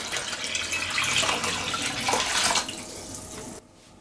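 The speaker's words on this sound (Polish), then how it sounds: "Wlewam wodę." Water runs and splashes steadily into a soup pot for a few seconds, then cuts off abruptly, leaving a quiet room tone.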